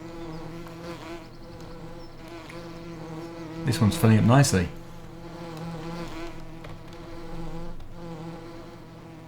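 Bees buzzing as they swarm out of a hive in Farming Simulator 2017, a soft steady insect hum in the background while someone talks briefly over it.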